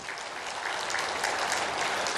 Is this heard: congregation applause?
yes